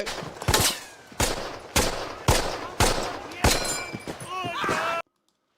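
Bolt-action rifle fire in a war drama battle scene, about half a dozen loud, sharp shots spaced roughly a second apart, each followed by a ringing tail, ending in abrupt silence.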